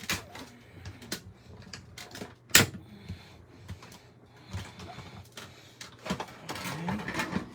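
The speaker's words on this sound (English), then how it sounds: "we're gonna run it through the machine" A die-cutting machine cranks a card plate sandwich through its rollers, giving uneven mechanical clicks, scrapes and clunks with one sharp loud knock, close by, and faint movement in between.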